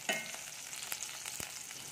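Chopped onions fry in hot oil for masoor dal, giving a steady close sizzle with a few quick stirring scrapes over two seconds.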